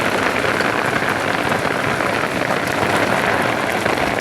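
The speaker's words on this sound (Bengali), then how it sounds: "আজকে এরকম বৃষ্টিতে পাইছি" Heavy rain pours down in a dense, steady hiss of drops hitting surfaces. It stays loud and unbroken from start to finish, with no voices.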